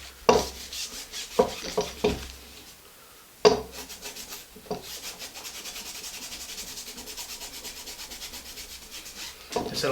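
Gray cloth rubbing along the rusty bar of an old clamp, a few sharp scrubbing strokes at first, then a steadier, softer rhythmic rubbing, close and quiet with no talking.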